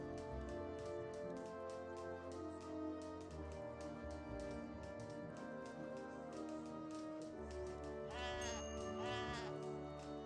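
Sheep bleat in Age of Empires 3 during a match. The short wavering bleats come near the end and sit over a dense, steady bed of game music and ambience.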